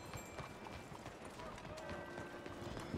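Horse hooves clop steadily in Red Dead Redemption 2, a quiet, even gait in the city of Saint Denis heard faintly amid low background ambience.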